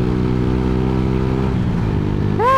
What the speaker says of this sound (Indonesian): Hari ini kita gunakan motor Revo ya